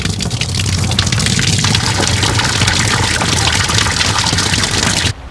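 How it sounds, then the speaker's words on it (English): Water gushes loudly and steadily from an open valve on an IBC tank, a continuous rushing flow that stops abruptly near the end. "open this valve here and flow the water from here into Tyson's water butt"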